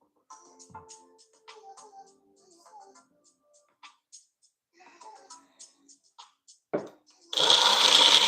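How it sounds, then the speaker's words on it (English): A kitchen blender starts up loud at the end, a dense whirring roar following a stretch of clattering, ticking handling noises and light movement. "Can't blend without a blender top."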